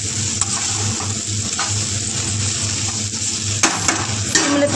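Pakodi being stirred into a curry in a pan makes a continuous sizzle, with scattered light scrapes and clacks of a utensil against the pan and no talking.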